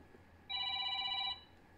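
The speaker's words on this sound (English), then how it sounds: "So when your 朋友 calls you on the phone" Telephone bell ringing with a single bright electronic trill lasting under a second, clear and close against a quiet room.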